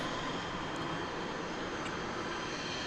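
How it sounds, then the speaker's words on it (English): A powder blue Boeing Dreamliner at DFW Airport gives off a steady, dense jet engine roar, continuous and fairly loud for the whole stretch. "All right, let's see how much of this Dreamliner we can grab for you. This powder blue Dreamliner."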